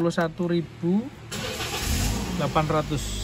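A manual 2015 Toyota Yaris G engine cranks and fires up, then settles into a steady idle. The start comes after a voice, and he keeps talking over the running engine.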